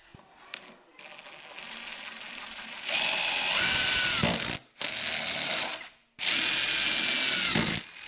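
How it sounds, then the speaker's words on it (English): Power drill boring holes into the aluminium tunnel of a 2022 Ski-Doo Summit SP Gen 4 snowmobile, several loud close bursts of whirring drilling with short pauses, no talking. "So what they've got us doing is drilling two holes up here."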